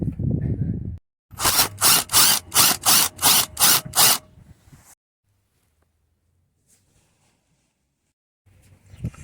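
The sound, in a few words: impact wrench on Ford Focus front strut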